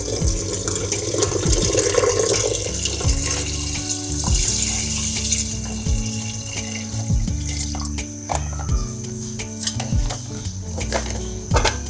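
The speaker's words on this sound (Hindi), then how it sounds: "अब मैं पानी डालने लगी हूँ।" Water pours from a tap into a cooking pot of chana daal with fried turmeric, a steady close splashing stream lasting throughout, with faint kitchen clatter.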